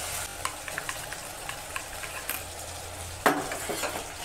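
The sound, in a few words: poppy seeds frying in a pan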